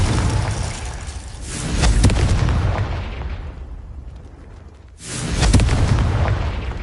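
Fiery explosion spells from the PS5 game Hogwarts Legacy, a series of loud booming blasts with rumbling decay, a sharp burst near the start, another around two seconds and a fresh heavy blast about five seconds in.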